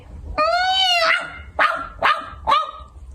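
A voice barks and yips like a dog in a children's home-theatre fairy tale performance: one long whining bark followed by three short sharp barks, close and loud.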